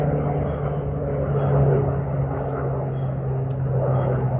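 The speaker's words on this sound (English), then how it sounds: "Let's just wait for the airplane." An airplane passing overhead above a hiking trail, a steady low droning engine rumble that stays loud and continuous throughout, with no voices.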